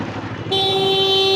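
Horn of a TAILG Orca F50 electric bike sounds a steady, loud electronic tone from about half a second on, sustained to the end over low background noise.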